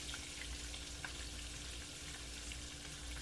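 Battered pieces sizzle steadily in hot frying oil, a dense continuous crackle with faint clicks as they are turned with a fork, close and without talk.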